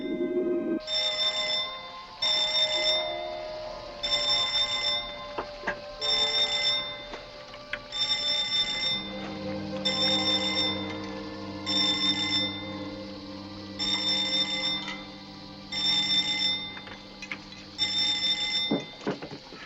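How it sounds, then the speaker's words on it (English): An electric alarm bell rings in repeated bursts of about a second each, with short gaps, steady and fairly loud against a low background hum. "That's when I heard the alarm bell"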